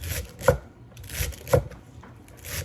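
Knife slicing celery thinly for a salad on a cutting board, with a few crisp, evenly spaced chops close by and nothing else heard.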